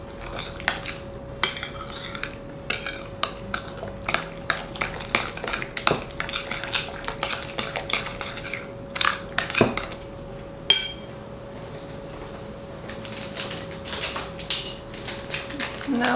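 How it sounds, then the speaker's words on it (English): A utensil scrapes and clinks repeatedly against a bowl as muffin batter is mixed, a busy close-up run of irregular taps and scrapes with a steady faint hum underneath and no talking. "Let's mix it well."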